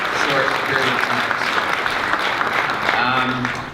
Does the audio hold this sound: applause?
yes